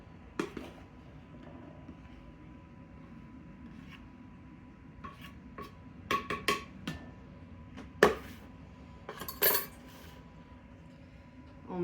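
Dry ingredients for fresh-milled huckleberry muffins are mixed in a bowl with a dough whisk, giving quiet scattered scrapes and clinks in irregular bursts over a faint background hiss.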